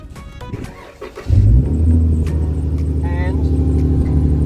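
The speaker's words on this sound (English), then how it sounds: "I'm just going to start the car actually and then turn it off" A Chrysler 300 engine cranks and catches, settling into a steady, loud idle rumble close by, with some chimes and a voice talking faintly before the start.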